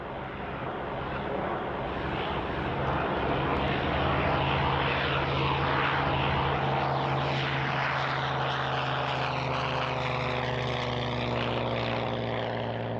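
Surviving Messerschmitt Bf 109 fighter in flight, a loud piston engine drone with a steady propeller hum that swells as it passes close and slowly fades, with no voices.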